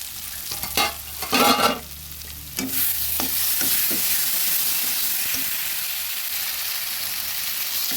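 Tomato and fish curry for a Bengali katla jhol is stirred in a frying pan, with a few scraping utensil strokes at first, then a steady, close sizzling hiss that carries on alone.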